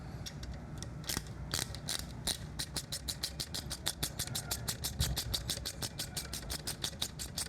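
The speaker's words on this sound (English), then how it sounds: "Now we can tighten this clamp with our 5mm Allen hex bit" A 5mm Allen hex bit ratchets down a clamp on a slash-cut shotgun exhaust for a Triumph Scrambler 1200, giving a steady run of quick, close clicks that speed into a dense, even rhythm with no talking.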